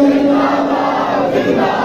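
A packed religious gathering in Khewra roars the Tajdar-e-Khatm-e-Nabuwwat slogan together, many voices merging into one loud, sustained chant that swells slightly near the end.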